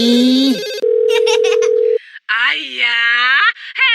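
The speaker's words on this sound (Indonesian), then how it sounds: "handphone sama telepon rumah dari tadi ibu telepon gak ada yang angkat" A telephone rings on unanswered: electronic tones and ring bursts in short repeated patterns, loud and close, with varied warbling tones toward the end.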